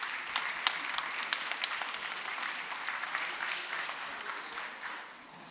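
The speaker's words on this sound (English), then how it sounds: "give yourself a big round of applause and thank you very much for getting involved" Audience applause at a science-communication talk show, steady clapping from a crowd that swells briefly and then fades out over several seconds.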